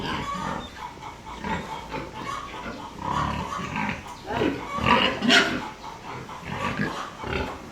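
Grunting and squealing from a mother pig being caught to be tied, repeated in bursts, up close, with a louder squeal near the end and some background commotion.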